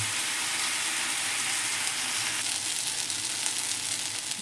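Paneer tikka roasting in a pan, a steady close hiss of sizzling that grows slightly busier with faint pops toward the end, no talk.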